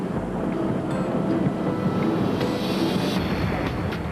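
A freight train hauling iron ore across Mauritania gives a steady, dense rumble and roar with heavy wind noise, loud and unbroken throughout.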